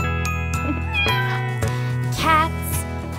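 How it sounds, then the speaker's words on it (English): A cat meows in a sustained, wavering cry, then a second drawn-out meow, heard over a steady musical backing in a children's animal sounds song. "meow, meow"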